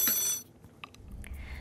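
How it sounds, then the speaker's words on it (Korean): A telephone ringing with an incoming call during a live Korean stock-market broadcast, a brief bright ringing tone that cuts off after under half a second, followed by faint room noise. "전화 받아볼게요."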